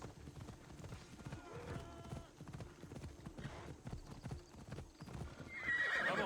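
Rapid hoofbeats gallop steadily throughout in Assassin's Creed Odyssey, with a horse's neigh rising briefly, and a burst of brighter noise near the end.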